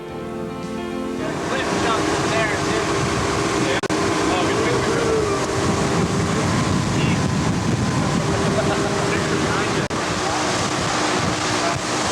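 Steady roar of a boat moving over water in Palau's Rock Islands, with churning waves and wind buffeting the microphone throughout.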